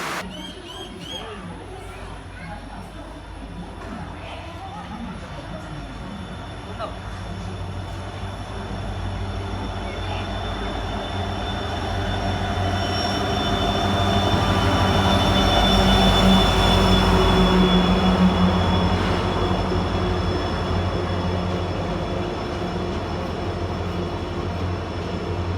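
A train pulls into a station in Kerala on a trip toward Kochi, its wheels rumbling and squealing as the heavy rolling noise builds to a peak mid-clip and then holds steady, with people talking faintly in the background.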